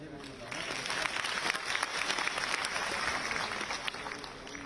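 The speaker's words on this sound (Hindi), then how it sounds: "माननीय मुख्यमंत्री जी को अपने तालियों के प्रणाम के साथ विदा दें" Audience applause for the Chief Minister at a scheme launch event, a steady even clatter of many hands clapping that holds for several seconds at moderate volume.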